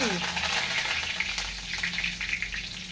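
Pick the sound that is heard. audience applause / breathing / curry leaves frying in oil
curry leaves frying in oil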